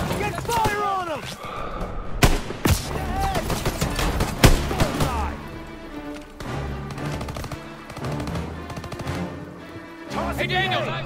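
Rifle fire in a Call of Duty WWII firefight against snipers, with scattered loud cracks and bursts amid battlefield clatter, while soldiers shout over the shots.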